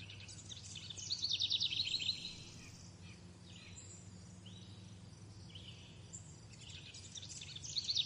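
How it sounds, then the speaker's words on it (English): Quiet outdoor forest ambience with a low steady hum, high chirping birdsong in bursts, and faint insect buzzing throughout. "Probably just want like some just relaxing sounds, like forest sounds"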